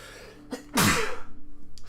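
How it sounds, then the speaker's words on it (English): A single loud, close sneeze with a short sharp intake before it, followed by a rhythmic pulsing background. "Sorry, had to sneeze."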